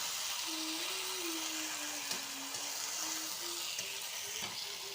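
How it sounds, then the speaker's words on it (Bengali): A ginger, garlic and onion paste fries in a wok for katla fish muri ghonto, producing a faint, even sizzle with a thin whining tone running through it. "দিয়ে একটু ভেজে নেবো ভালো করে"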